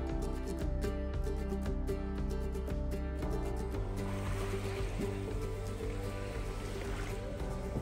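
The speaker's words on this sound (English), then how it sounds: "Chundering along through the mangroves." A Nordhavn boat's engine drones steadily at close range while motoring through mangroves, a loud, constant motor hum with a slight shift in tone partway through.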